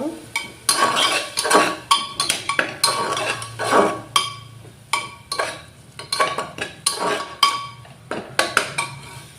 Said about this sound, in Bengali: দিয়ে এখন মশলাটা ভালো করে কষিয়ে নিব।